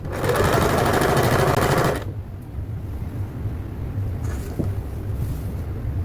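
A sewing machine stitching a fabric band to the panel of a square cushion, running loud and fast with a steady rapid whir for about two seconds, then stopping to a quieter background hum.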